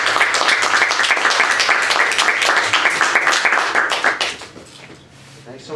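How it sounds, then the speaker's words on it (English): An audience at a poetry reading gives the poets a round of applause, dense clapping for about four seconds that thins into scattered claps and quiet murmur as it dies away. "Let's give the poets another round of applause"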